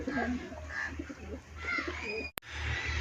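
Pet pigeons in a homemade backyard coop give soft, low, repeated coos close by, followed by a brief sharp knock near the end.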